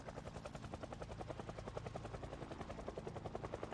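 A helicopter in the zombie survival game Project Zomboid thunders overhead, its rotor blades chopping in a fast, steady rhythm that stays loud and close throughout.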